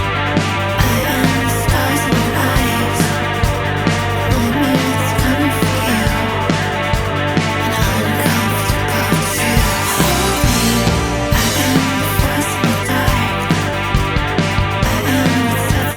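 Dense full music mix run through a Kiive BB F66 Fairchild-style compressor plugin on the master bus, loud and steady throughout with a driving beat and no talking.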